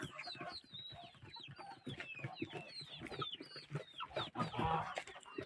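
Many chickens cluck and chatter softly together in a busy, continuous flock in a poultry yard at feeding time, with occasional higher squawks rising above the murmur.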